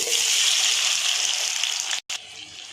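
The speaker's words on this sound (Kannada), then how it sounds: "ಟೊಮೊಟೊ ಮೆತ್ತಗಾಗೋವರೆಗೂ ಚೆನ್ನಾಗಿ ಫ್ರೈ ಮಾಡ್ಕೋಬೇಕು" Tomatoes fry in a pan with cinnamon, cloves, cardamom and black pepper, giving a steady, close, bright sizzling hiss that runs unbroken, then cuts out briefly near the end before resuming.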